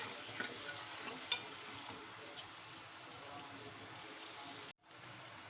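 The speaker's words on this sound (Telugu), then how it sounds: "ఇప్పుడు ఆనియన్స్ని బాగా ఫ్రై చేసుకోవాలి" Onions frying in a pan for a home-style potato and mixed sprouts curry, a soft continuous sizzle with faint stirring clicks, one brief clack, and a sudden short dropout near the end.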